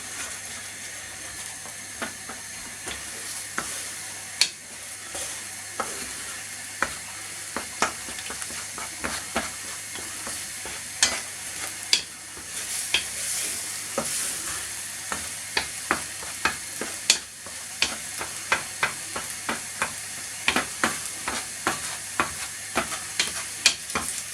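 Egg frying in a pan for egg fried rice, a steady sizzle under frequent sharp scraping and tapping of a utensil stirring through the pan, continuous and close with no talking.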